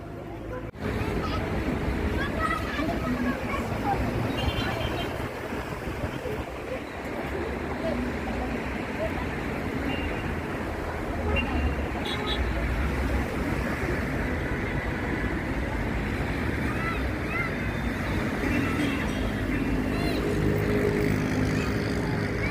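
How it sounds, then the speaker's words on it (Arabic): Traffic on the seaside Corniche road (Al-Geish Road) by Asafra beaches in Alexandria, with a steady broad rush of passing cars and surf blending into one continuous roar. "ده شارع الجيش او شارع البحر، شارع الكورنيش. على يمنا كده البحر، شواطئ العصافرة."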